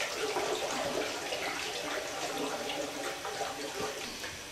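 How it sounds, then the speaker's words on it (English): Water pours steadily into a 5-gallon homebrew beer batch, a continuous splashing, gushing stream heard up close and fairly loud throughout, with no speech over it. "let's add some water to this because we want a 5-gallon batch"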